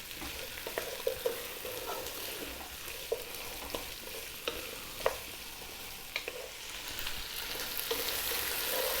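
Chopped vegetables for lentil soup frying in a pot over above-medium heat, a soft continuous sizzle broken by scattered clicks and scrapes of stirring, fairly quiet and close.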